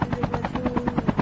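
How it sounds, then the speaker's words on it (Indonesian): A helicopter in Call of Duty Mobile thumps loud and near, its rotor blades beating in fast, steady pulses with no break. "Aku ada helikopter kat ni."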